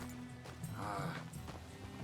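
Horse hooves clip-clop on the ground in Red Dead Redemption 2, a few quick, fairly faint steps with light game background sound.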